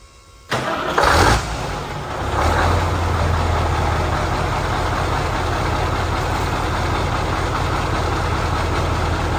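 A Scania semi truck engine fitted with a new billet turbo cranks and fires up, then settles into a loud, steady idle with a deep rumble and faint turbo whistle.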